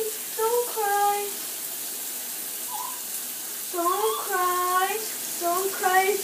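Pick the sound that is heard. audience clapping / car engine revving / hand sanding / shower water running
shower water running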